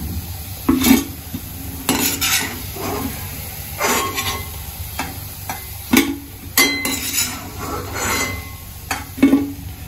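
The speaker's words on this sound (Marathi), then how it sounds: "आता मी सेकंड बॅच तळायला टाकून घेत आहे" Gulab jamun fry in hot ghee with a steady hiss and sizzle, punctuated by occasional clinks and stirring scrapes of a utensil against the pan, close and moderately loud, with no talking.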